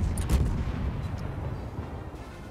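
Naval guns firing armour-piercing shells at a cruiser in World of Warships, heard as a deep, muffled boom that rolls into a low rumbling decay over a couple of seconds.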